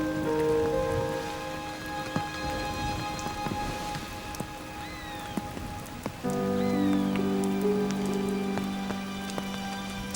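Rain pattering steadily on a northern goshawk nest in a Korean forest, a constant close wash of drops with occasional louder splats, while faint bird calls sound in the background.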